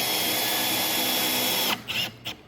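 A power drill drives screws into the back of a wooden bench board during leg assembly, a steady loud whir running for about 1.7 seconds before stopping, followed by a couple of short bursts.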